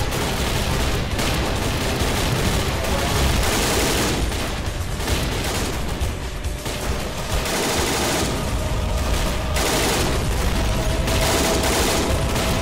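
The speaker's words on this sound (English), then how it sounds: "That machine gunner there unloading onto the enemy troops" Sustained battlefield gunfire from the game Army Men of War, with machine gun bursts and scattered shots rolling on without pause, loud and dense throughout, occasional booms mixed in and no talking.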